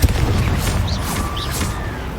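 Confringo spell explosion in Hogwarts Legacy, a boomy blast at the start that falls into a rumbling tail, with whooshing spell effects and faint tonal chimes layered through the mix.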